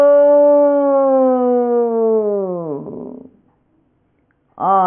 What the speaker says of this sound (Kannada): ದೂರದಲ್ಲೆಲ್ಲೋ ನಾಯಿಗಳು ಅಳುವ ಸದ್ದು